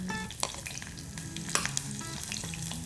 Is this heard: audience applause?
no